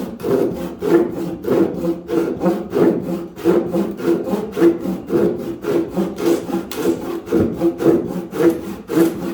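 A hand saw crosscuts wood perpendicular to the grain during a joiner's bench build, giving steady rhythmic rasping strokes, about two per second, close and loud with no talk.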